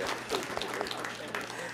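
Faint audience clapping at a mayor's public safety forum, a brief, distant patter of applause with a voice talking over it.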